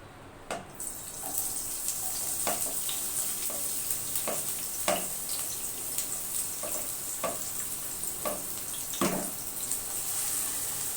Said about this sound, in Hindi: तो देखिए पैन में मैंने ऑयल ले लिया, अब इसमें प्याज ऐड कर रही हूँ